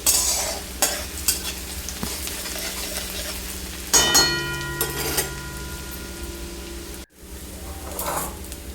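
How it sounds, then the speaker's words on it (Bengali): Crushed garlic and broken dried chillies fry in hot mustard oil in a wok, giving a steady close sizzle with stirring scrapes and a louder burst of hissing midway. No one speaks. "আর আমি কড়াইতে তেল গরম হয়ে যাওয়ার পরে এতে আমি থেতো করা রসুন আর শুকনো লঙ্কা ভেঙে দিয়ে দিচ্ছি।"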